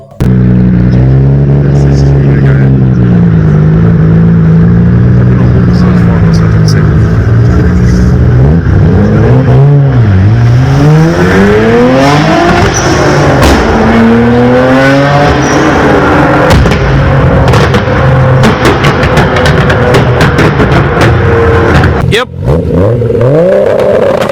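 A loud car engine revs hard, rising and falling in pitch through long sweeps, with a sharp blip near the end and a constant close rumble.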